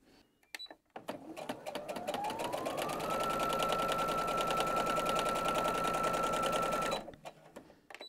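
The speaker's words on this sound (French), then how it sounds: "Et je vais coudre avec un quart d'inch marge de couture comme d'habitude." A sewing machine runs a steady continuous stitch on quilt pieces sewn with a quarter-inch seam, starting up and settling into a fast even whir for about six seconds before stopping, close and clear with no talk.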